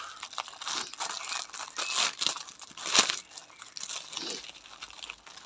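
Plastic wrapping of a cross-stitch kit package being unwrapped, continuous close crinkling and rustling with sharper crackles, fairly loud and without pauses.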